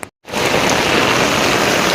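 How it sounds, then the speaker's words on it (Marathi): Heavy rain pours steadily outdoors in Badlapur after a brief silent gap at the start, a dense, loud, continuous hiss with no voices. "खूप जोरात पाऊस पडतोय"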